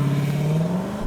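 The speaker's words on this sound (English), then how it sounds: "I'm just going to launch it. There is no launch control, I just floor the throttle." A Lexus LC500 Convertible launched from standstill at full throttle with no launch control, its engine note climbing steadily and loudly as revs build, close and alone with no voices.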